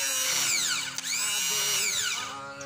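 An electric starter motor fitted to a Honda GL Pro motorcycle whines steadily with a high spinning tone that rises and dips in pitch for almost three seconds, loud and close, without talk.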